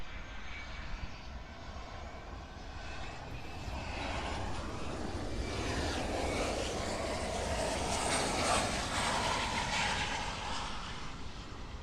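A classic Boeing 737 airliner of Aero Airways, arriving from Havana, roars in on runway 9 at Miami International Airport, a broad sustained jet engine rumble that swells gradually and stays loud throughout, with no voices over it.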